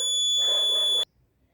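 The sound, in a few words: security system alarm after wrong password entries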